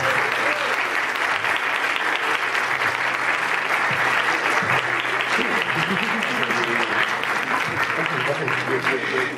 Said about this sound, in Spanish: ¡Dense un aplauso ustedes,